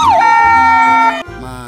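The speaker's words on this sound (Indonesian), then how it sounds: "Di sini ada mobil ambulan." A loud electronic toy ambulance siren wails with a swooping tone, then steady high notes, cutting off and shifting pitch near the end.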